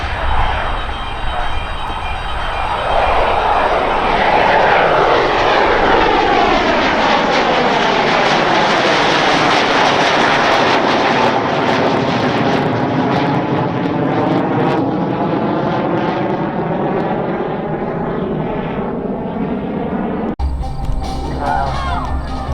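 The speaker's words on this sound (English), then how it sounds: "On the takeoff roll from the right, the CT-133, we're going to nickname for today the Red Knight." A CT-133 jet rolls for takeoff at an airshow in London, its engine roar loud and sustained for about twenty seconds, sweeping in pitch as it passes, before cutting off abruptly.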